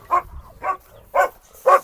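A Cane Corso barks four times in a slow, evenly spaced series, each bark loud and close with a short gap of quiet between.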